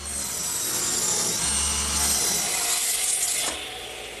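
Strips are sawn from a 2x4 wooden board in a continuous close rasping cut lasting about three and a half seconds before the sound eases off, with no talking.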